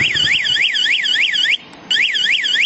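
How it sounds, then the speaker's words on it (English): A remote-triggered security alarm on a T125D utility ATV blares loudly and close, a rapid warbling electronic siren that cuts out briefly near the end, then resumes. "and then it makes that alarm."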